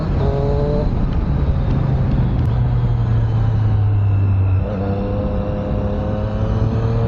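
A 2020 Triumph Street Triple R 765 motorcycle leans through a corner, its engine a loud, steady droning rumble that shifts pitch partway through as the rider eases and rolls the throttle, with wind noise around it.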